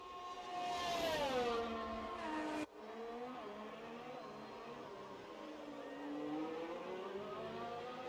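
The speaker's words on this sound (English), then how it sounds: "Just hear his engine there." Sebastian Vettel's Formula 1 car in the F1 2019 racing game, a high engine whine that climbs and falls through the gears, swelling and then cutting sharply before droning on at a steadier pitch.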